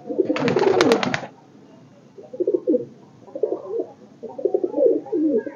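Madrasi pigeons in a loft give low, soft cooing calls in several separate bursts, close and clear, after a brief loud rustle or flutter at the start.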